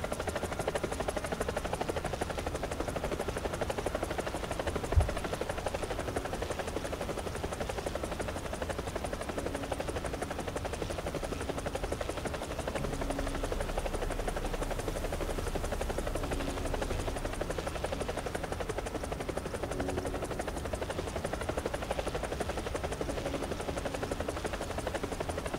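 Helicopter in the War Thunder combat game flying steadily, a continuous rotor and engine drone at even loudness for the whole stretch, with one brief thump near the start and no talking.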